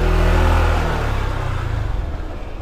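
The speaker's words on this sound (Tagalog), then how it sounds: "Buti na lang nakamotor tayo, kaya kasya lang yung" Motorcycle riding along a narrow road near Pagbilao, Quezon, its engine a loud, close low drone that eases off slightly as it rolls on.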